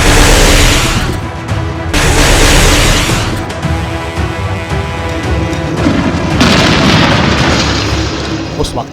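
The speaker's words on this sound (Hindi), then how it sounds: "अमेरिकी वायुसेना इराक और कुवैत में सद्दाम हुसैन के सैनिकों के ठिकानों पर बारूद बरसाने लगी" Heavy rumbling blasts and booms from US air strikes on Iraqi and Kuwaiti positions during Operation Desert Storm, a dense, continuous roar with swelling bursts that fills the whole stretch at high loudness.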